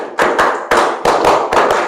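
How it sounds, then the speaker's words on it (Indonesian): A classroom group claps together in a counted rhythm during a microteaching lesson, with loud, close, sharp claps falling in clustered patterns of ones and twos, each burst ringing briefly and no voices heard over them. "Sekarang tepuk 1"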